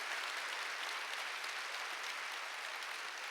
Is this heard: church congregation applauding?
yes